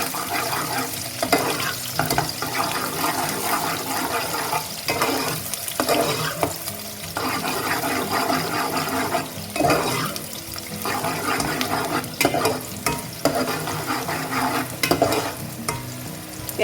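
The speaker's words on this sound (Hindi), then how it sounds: "प्याज को हम थोड़ा सा सुनहरी होने तक भूनेंगे।" Sliced onions fry and sizzle in hot oil with whole cloves, black pepper and green cardamom for a Pakistani chicken salan, with steady crackling broken by repeated stirring scrapes and no voices.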